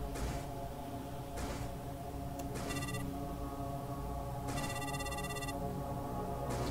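A telephone rings in the RPG Maker game ZENO Remake, two bursts of trilling electronic ring over a low ambient hum, with faint clicks between them and no speech.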